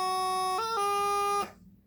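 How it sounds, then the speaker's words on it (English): Bagpipe practice chanter moves from F up to high G with a thumb grace note, a brief pitch flick before a sustained nasal reedy tone that then stops abruptly, close and unaccompanied. "you need to play a thumb grace note to get to that high G."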